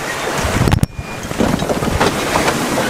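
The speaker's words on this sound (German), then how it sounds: "Es ist Wind da." Wind blows steadily while sailing close-hauled single-handed on the English Channel, a continuous rushing roar with gusty buffeting on the microphone and a brief sharp dip near the start.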